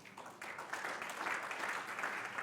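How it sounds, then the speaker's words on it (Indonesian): A church congregation applauding during a Sunday service, a soft, sustained patter of many hands clapping that swells after a quiet start and continues evenly, somewhat distant. "Tepuk tangan lagi."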